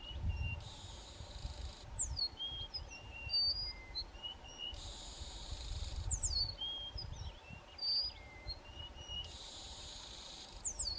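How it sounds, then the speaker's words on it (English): Dark-backed weavers sing in such tight synchrony that they sound like a single bird, with repeated bursts of buzzy trills and quick sliding whistles returning in three phrases over a low background rumble. "these dark-backed weavers sing so synchronized that it sounds like one bird"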